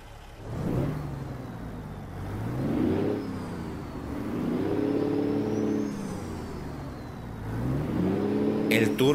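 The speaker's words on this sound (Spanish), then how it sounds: "Vamos a acelerar para ver qué tal se escucha." A Peterbilt 579 NG truck engine in American Truck Simulator, hauling vegetables through Nevada, revs up in several rising and falling swells over a steady, loud diesel drone, with a brief click near the end.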